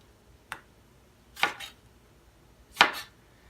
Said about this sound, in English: I'm just pre-chopping these so they'll be ready to throw in the pan